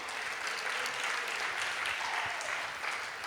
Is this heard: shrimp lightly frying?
no